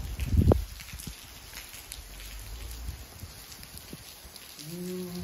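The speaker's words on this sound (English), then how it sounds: "it is raining" Steady rain falls outdoors, a continuous soft hiss of drops pattering on surfaces, with a brief thump near the start and a low tonal hum creeping in at the end.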